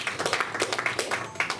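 An audience claps steadily in a quick, even rhythm, moderately loud and close, with no voices over it.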